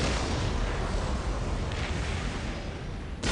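Ork artillery fire in Dawn of War: a dense, continuous roar of distant bombardment and explosions, loud and steady throughout with no clear gaps.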